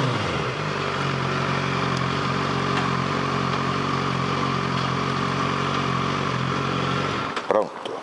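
A Suzuki SRAD 750 motorcycle engine hums steadily and loud while riding, then cuts off abruptly near the end with a short clatter.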